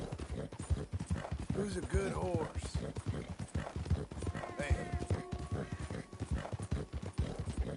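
Rhythmic horse hooves clip-clopping in Red Dead Redemption 2, a steady close trot running under a voice talking to the horse, with a brief whinny and game sounds mixed in.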